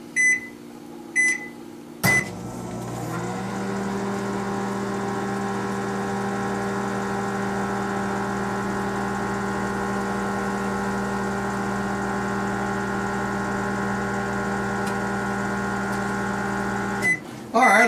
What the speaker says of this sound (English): Okay, cook it another 30 seconds.